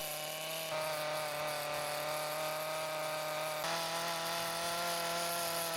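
Chainsaw carving a wood sculpture of an animal, working detail into ears laid back. A steady, loud whining motor drone runs throughout, shifting pitch slightly as the speed changes, with no voices.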